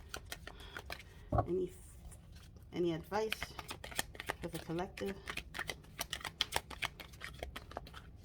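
Oracle cards being shuffled by hand, a quick run of crisp riffling clicks and soft flicks, close and quiet, with someone speaking briefly between shuffles.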